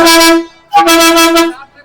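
A bus horn on a road trip toward the Nepal border sounds two loud, close, steady blasts, each lasting under a second, separated by a brief pause.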